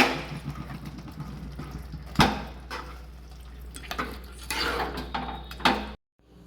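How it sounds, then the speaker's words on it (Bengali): A pot of muri ghonto, a Bengali dish of rohu or catla fish head with rice, being stirred after a spoonful of ghee and garam masala, with scraping spoon strokes and occasional louder knocks against the pot, ending abruptly. "দিয়ে আমি গ্যাসটা অফ করে ভালো করে মিশিয়ে দিচ্ছি।"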